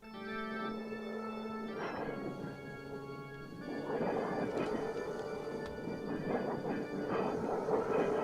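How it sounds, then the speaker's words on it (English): Thunderstorm sound effect in a radio drama of Dracula, a steady loud rumble with squealing tonal layers and surging crashes building through the second half, with no voices. "It's the raw power of the thunderstorm."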